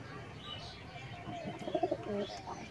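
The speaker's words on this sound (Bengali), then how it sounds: "এটা রেগদার চোখের গিরিবাজ পায়রা" A Giribaz pigeon with distinctive eyes gives a short, soft cooing call of a few quick pulses near the end, close but quiet over faint background noise.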